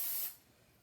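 Hairspray hisses from an aerosol can in one short, close burst that quickly fades, sprayed onto hair while a ponytail is styled.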